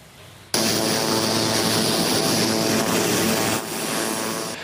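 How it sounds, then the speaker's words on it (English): A CT-102B Astra II, a German-designed training aircraft at 15 Wing Moose Jaw, starts with a loud, steady engine roar that cuts in abruptly, holds evenly, then eases slightly near the end. "A new fleet of training planes are now in use at 15 Wing Moose Jaw."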